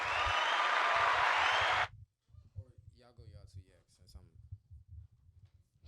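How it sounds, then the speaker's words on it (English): A podcast audience gives a round of applause for a guest, loud, dense clapping for about two seconds that then stops abruptly, followed by a speaking voice over a low background hum. "So let's all round of applause for Kemi."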